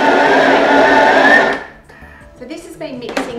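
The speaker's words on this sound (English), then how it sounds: "Now what we do is we blend it all together." A food processor whirs loudly and steadily as it blends the lemon slice base, then cuts off after about a second and a half. Clinks and handling noises follow, with faint talk.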